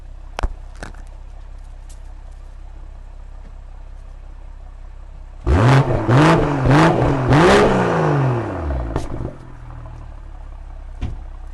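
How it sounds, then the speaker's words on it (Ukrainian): After quiet, a 2021 BMW 440i engine revs hard through its exhaust in several rising and falling bursts, loud and close, then settles back to near silence. "Вихлоп нас звучить ну просто крутецько."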